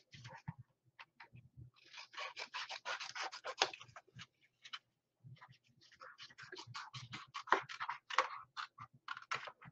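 Scissors trimming the corner of a patriotic picnic caddy craft, a long run of quick crisp snips and scraping cuts in two bursts, close and fairly quiet, with no talking.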